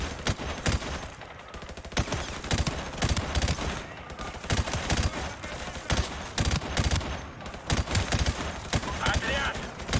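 Gunfire from Call of Duty Modern Warfare Remastered, a dense run of game shots and bursts going off throughout, loud and busy, with voices calling out over the shooting.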